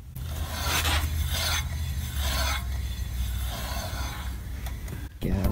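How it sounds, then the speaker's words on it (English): A steady grinding rub repeats in rhythmic pulses, a metallic scraping that swells about once a second over a low hum, from a warped brake rotor rubbing on the caliper of an Infiniti G35 or Nissan 350Z. "because the rotor isn't straight and it's a little bit warped out, it's gripping onto the caliper and stopping it"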